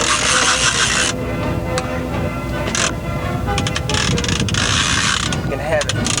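A heavy fishing reel being cranked on a boat off Savannah during a fight with a shark, loud close ratcheting and whirring that starts and stops in bursts over steady background noise.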